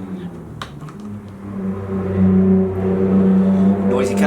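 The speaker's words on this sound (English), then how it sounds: "Noisy car going past." Loud car passes nearby, its engine note building and swelling to a roar before holding steady, with some brief clicks and small noises early on.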